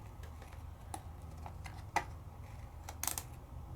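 Card or paper being cut for a craft project, a few soft, close snips and ticks scattered irregularly over a quiet background hum.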